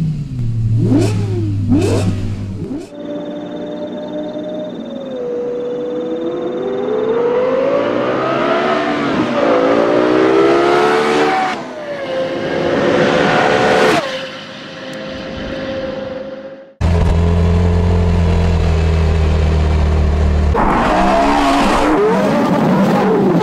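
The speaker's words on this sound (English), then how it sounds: "One thing the V10 engine is popular for is its unique sound." A V10 racing car engine screams through repeated high-pitched revs and gear changes, the loud wailing note rising and falling in sweeps, with sharp cuts between passes and a throaty roar near the end.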